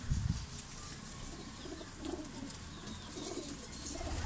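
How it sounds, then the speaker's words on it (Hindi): Shahjahanpuri high-flyer pigeons kept for sale coo softly and repeatedly in a low murmur, faint and fairly distant, with light rustling around them. "ये शाहजहांपुरी भी बीच में है, शाहजहांपुरी कबूतर भी बीच में मौजूद है।"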